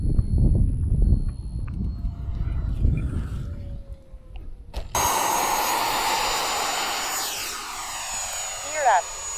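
A rebuilt Raptor RC jet model on a test flight at Fritz Field, a steady jet whine passing overhead after a spell of talking, then rising in a close flyby near the end.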